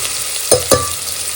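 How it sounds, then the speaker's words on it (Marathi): Onions and curry leaves fry in hot oil in a pot, giving a steady sizzle broken by two quick, sharp stirring scrapes close by. "कढीपत्ता आणि कांद्याची आपण ही फोडणी छान तेलात परतून घ्यायची."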